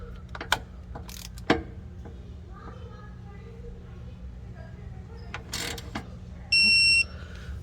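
A torque wrench retightening valve body bolts on a Cadillac Escalade 6L80 transmission, with sharp isolated clicks and ratchet ticks over a low steady hum, plus a brief electronic beep near the end.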